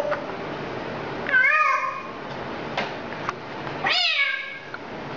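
A parrot mimics a cat's meow twice, clear and close, each call a rising-then-falling whine separated by a short pause, with faint background noise.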